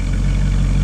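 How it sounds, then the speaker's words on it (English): Exhaust of a 1958 Pontiac Parisienne convertible with a 348 tri-power V8, a loud, low, steady idle rumble heard up close, brief and without talking. "You can hear the exhaust is actually down here somewhere"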